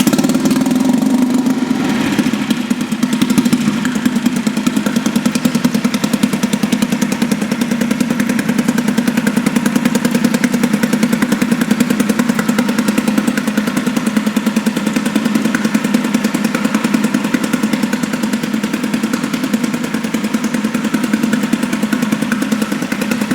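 A small Mercury 2.5HP outboard motor, started cold on choke, runs continuously with a steady, buzzy, rattling drone close by, holding an even pitch and loudness with no talk over it.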